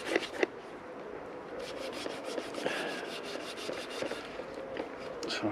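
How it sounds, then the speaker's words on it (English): An oiled wooden axe handle is rubbed down with Abranet abrasive mesh, giving close, scratchy back-and-forth strokes in a steady rhythm with a few sharper knocks along the way. "with a bit of Abranet, just take some of that stickiness off"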